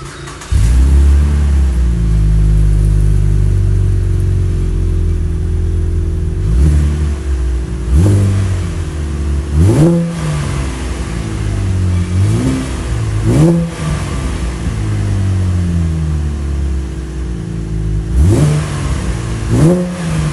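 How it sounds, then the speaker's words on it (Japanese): A custom Chevrolet Camaro engine fires up and settles into a loud, deep idle, then gets revved in about four sharp bursts that rise and fall back, close by and with no talking. "じゃあエンジンをかけてください。"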